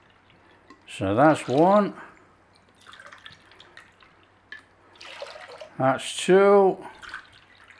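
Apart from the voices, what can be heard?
cups of water poured into sweet and sour sauce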